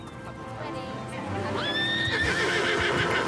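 A horse whinnies at a racecourse, a rising then falling cry with a strong harmonic tone, heard over a busy outdoor background with some clip-clop.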